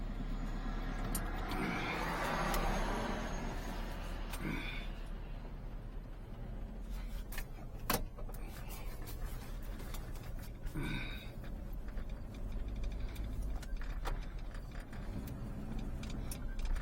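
A 1959 Edsel Ranger being backed up, its engine a low steady rumble with occasional brake hiss and brief clunks, quiet and fairly distant throughout.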